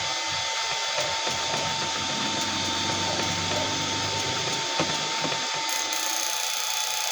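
A PDC HY4008 blower fan runs loudly and steadily with a dense broadband whoosh and a constant whine, close up and unbroken throughout.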